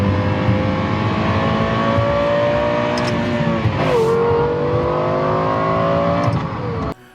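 A Lexus LFA's 550-horsepower 4.8-liter V10 sings a loud, continuous high-revving exhaust note, its pitch climbing and dipping through several throttle blips before cutting off abruptly near the end.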